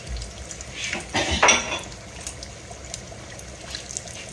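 Fried pies going into very hot grease give a short sizzling burst in the middle, with clinking cookware and utensil sounds close by before and after.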